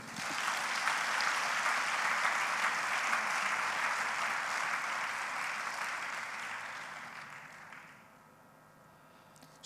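A church congregation applauding together in a sustained wave of clapping that holds steady for several seconds and then fades out near the end, fairly distant and without voices.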